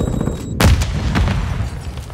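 Semtex grenade detonating in a Call of Duty Modern Warfare II match, a single sharp, loud boom with a rumbling tail, followed by a few fainter bursts of distant gunfire.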